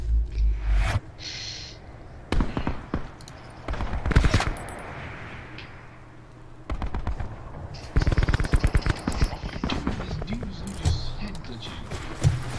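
Rapid automatic gunfire in a Black Ops 4 multiplayer match, bursts of loud shots separated by quieter pauses, with mechanical weapon clicks and someone talking between and over the firing.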